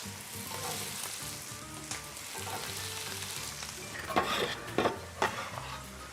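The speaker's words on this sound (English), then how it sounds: "So I'm going to add to this now the vegetables." Vegetables stirred into a skillet of puttanesca sauce sizzle and crackle steadily up close, with a few louder scraping stirs near the end and no talking.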